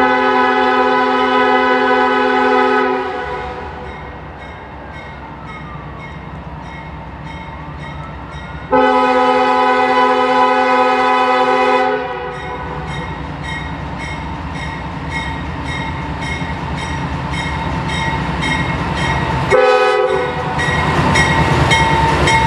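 CSX freight train passing close by, with loud sustained horn blasts at the start and again midway, between them and after them a continuous rumble and rhythmic clatter of railcars rolling over the rails.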